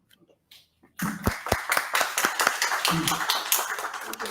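An audience at a US Independence Day commemoration event applauds a speaker. After a near-silent start, clapping bursts in at about one second and continues, with sharp individual claps standing out from the group.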